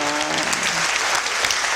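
Audience at a spiritual satsang gathering clapping together, dense and steady applause close by that lasts through the whole short moment, with a voice briefly heard at the start.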